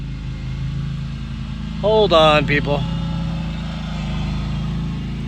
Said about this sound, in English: somebody's mowing right here